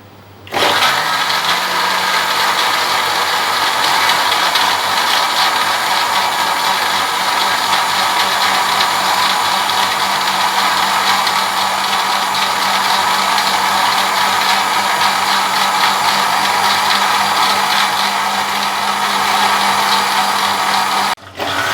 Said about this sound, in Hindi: और इसे दोबारा ग्राइंड कर लेंगे।